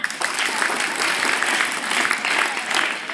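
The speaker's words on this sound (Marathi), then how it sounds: "जोरदार टाळ्या।" Loud, sustained applause from a school audience of students fills the whole stretch, dense and steady clapping for a student elected unopposed at a school election.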